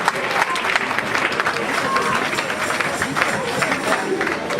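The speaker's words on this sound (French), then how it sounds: "On acclame la parole." Women's convention congregation in a church hall in Liège, Belgium, applauding together in a dense, steady wash of clapping with some crowd noise, sustained at even loudness throughout.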